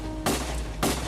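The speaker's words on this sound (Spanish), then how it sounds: "Lucky se gira y dispara." Two sharp gunshots ring out about half a second apart, fired at a creature, each a loud broadband crack over a steady low rumbling background, with no voices.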